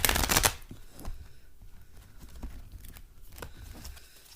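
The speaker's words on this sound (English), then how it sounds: "Sometimes it needs a little shuffle." A brief burst of cards riffling at the start, followed by softer intermittent card slides and taps, close by, with no voices.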